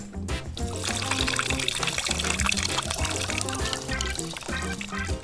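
Brine for a fermented hot sauce pours steadily into a jar of vegetables, a continuous splashing trickle heard up close for several seconds.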